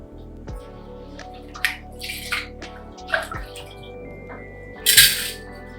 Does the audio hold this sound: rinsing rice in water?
yes